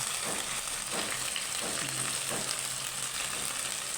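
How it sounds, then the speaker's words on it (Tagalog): Chicken fillet, cut from the breast, frying in a pan, a steady close sizzle with faint crackles and the occasional scrape of stirring, no voices. "Gusto nila yung chicken fillet na niluluto ko."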